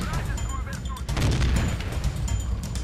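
Gunfire in the video game Battlefield 4, dense booming shots and rattling bursts that continue throughout, loud and packed together, with a voice talking over part of it.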